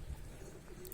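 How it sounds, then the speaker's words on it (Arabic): Iraqi Tar pigeons give a soft, low coo in a short, faint snippet, close by over quiet background noise. "مثل ما تشوفون هاي الطيور، التار العراقي القديم"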